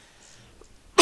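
A single sharp cough bursts out abruptly right at the end, loud and close, after near silence.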